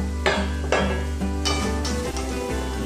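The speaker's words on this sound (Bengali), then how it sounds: "এবার আমি ভেজে রাখা ডিমগুলো এর মধ্যে দিয়ে দেবো" Fried fish roe tipped into spice masala for a fish egg curry, with a steady sizzle and a few firm stirring scrapes of a spoon against the pan, close and fairly loud throughout.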